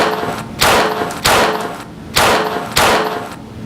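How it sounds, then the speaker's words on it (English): Four sharp cracking bursts from homemade fireworks, each a loud broadband bang trailing into hiss, come at a roughly even pace, as in a staged theatre scene. "Hey, Penny, look at these new fireworks we just made."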